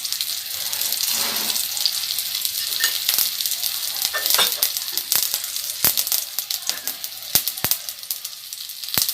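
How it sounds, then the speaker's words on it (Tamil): Mustard seeds spluttering in hot oil in a pan while a plantain fry is cooked. A continuous sizzle is broken by sharp, irregular crackling pops, heard up close. "கடுகு நல்லா பொரியட்டும்."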